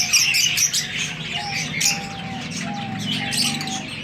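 Parrots chirp and squawk in separate wire-mesh cages, bright overlapping calls repeating over a steady background murmur, close and fairly loud, with a thin whistling tone appearing several times.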